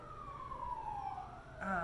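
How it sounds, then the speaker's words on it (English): Ambulance siren wailing at a distance, a single long falling tone that jumps back up near the end, faint under a low background hum. "we've got more ambulance, more sirens"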